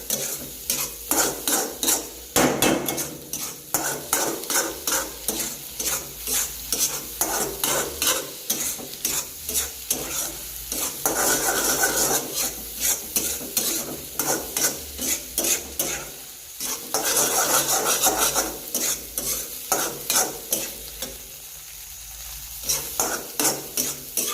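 Egg bhurji fries at a busy dhaba in Kolhapur, with loud rhythmic scraping and clanking of a metal spatula against the pan over a constant hissing sizzle, heard close and without talk.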